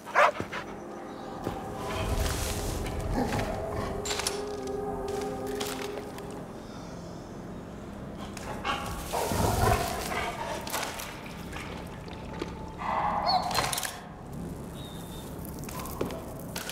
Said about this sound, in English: Who's a good little dog?